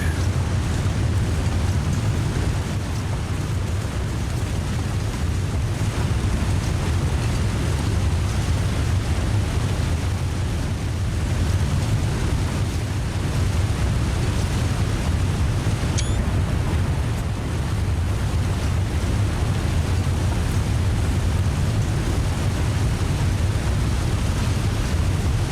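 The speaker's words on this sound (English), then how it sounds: "Boy, that's a loud river" A loud river rushes in the snowy wilderness of the survival game The Long Dark, a dense, steady roar of water with a windy wash that continues unbroken with no voices.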